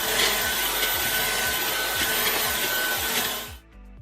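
A vacuum cleaner runs steadily while a closet is being cleaned out, a loud close drone with a rhythmic thumping underneath, cutting off near the end.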